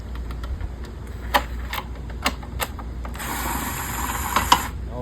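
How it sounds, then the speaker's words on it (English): Small metallic clicks and taps from a screwdriver removing two screws from the back cover of a belt/disc sander, close and sparse, followed by a brief scraping rattle. "On the back side, it has this cover. Take out these two screws."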